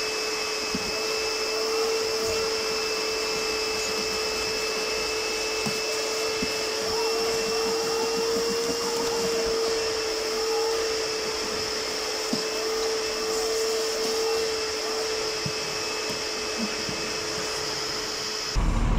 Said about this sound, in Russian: Преимущество пылесоса в том, что он достаточно тихий, но при этом мощный.